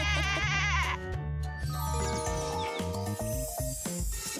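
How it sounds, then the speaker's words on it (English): Goat bleating over a busy backdrop of cartoonish music and effects, the wavering cries carried loud and steady through the first part, then blending into the melodic score. "The goat stayed to live with Asha"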